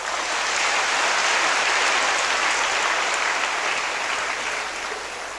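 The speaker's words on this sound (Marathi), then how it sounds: "मी म्हणतो टाळ्या वाजवा, तुम्ही टाळ्या वाजवता." Church congregation clapping in unison, a loud, dense sustained applause that fills the whole stretch and eases off slightly toward the end.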